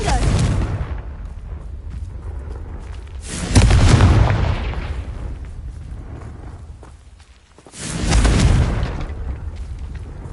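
Confringo fire-spell explosions in the Hogwarts Legacy video game sound as three heavy booming bursts a few seconds apart, each loud and close, then rumbling away, with faint game noise in between.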